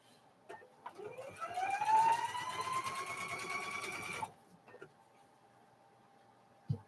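A sewing machine stitches quilt strips for a cow quilt with a fast, steady mechanical whir that rises in pitch and runs for about three seconds, then stops, leaving a few faint clicks.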